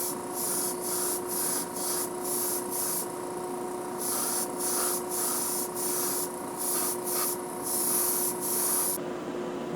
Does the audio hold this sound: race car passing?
no